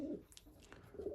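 Pigeons in a loft give a few soft, low cooing calls, faint and close, with brief quiet gaps between them.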